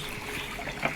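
Soft steady trickle of water from a clean mountain spring, close and continuous for about a second with a small splash near the end.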